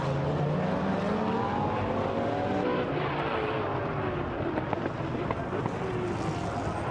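GT race cars roar around the Donington circuit in a continuous loud engine drone with shifting pitch as cars pass, while commentary runs over it.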